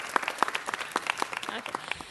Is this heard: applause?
yes